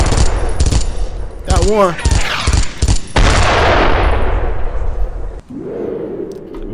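Loud bursts of automatic gunfire and rapid shots in the World War II shooter Brothers in Arms: Earned in Blood, dense and close, with a brief voice under the shooting and a sweeping whoosh.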